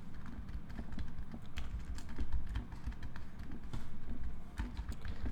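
Quiet, steady typing on a computer keyboard while entering a code comment in Java, with soft continuous key clicks in an even patter throughout.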